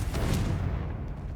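Confringo fire spell explosion in the game Hogwarts Legacy, a short deep boom with rumbling low debris that fades quickly, heard alone and fairly close.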